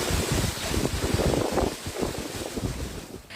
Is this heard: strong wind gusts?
yes